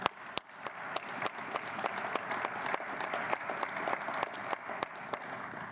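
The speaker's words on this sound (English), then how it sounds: "we deserve a round of applause." Sustained applause from a large audience at a law school commencement ceremony, dense steady clapping with sharp individual claps standing out, continuing throughout without speech.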